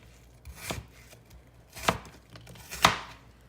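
A whole medium onion is chopped on a board in three distinct, well-spaced knife strikes, each a crisp thud, close and clear against a quiet background with no talking.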